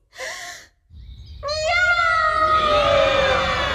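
A person's voice imitates a cat's meow, a drawn-out wavering cry, after a short breathy sound and a pause, with murmuring in the background.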